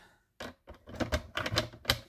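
The Craftelier Minty Cut cutting machine works through paper, making close, sharp clacks and short scraping bursts in an uneven rhythm with brief pauses between them.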